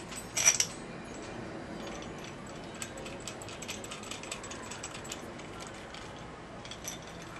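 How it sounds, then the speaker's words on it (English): A ratchet tightens bolts fastening a fan unit onto a fan wheel, light rapid clicking and small metallic clinks at close range, with one louder clatter near the start and quiet background noise. "Then you just bolt on to the fan wheel."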